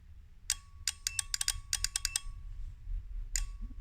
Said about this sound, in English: So turn on your ignition. Hear the little click.